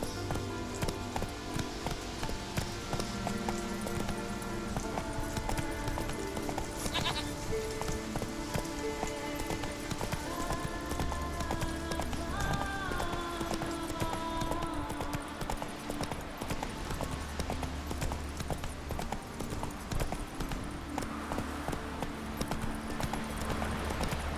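Geralt's horse Roach gallops in The Witcher 3 on Skellige. Steady, rhythmic hooves clip-clop close by, with a rain-like patter that continues throughout.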